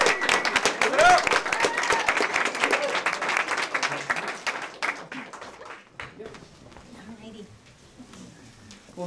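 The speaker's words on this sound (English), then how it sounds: "let's give her a very round of applause" An audience breaks into loud, dense applause that gradually thins into scattered clapping, with a voice speaking over it toward the end.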